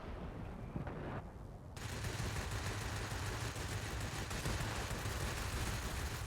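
Continuous machine gun fire from fighter planes in a Spitfire versus Zero flight combat game. The fire is loud and steady and sits over a constant engine drone, with the burst growing denser after a short opening stretch.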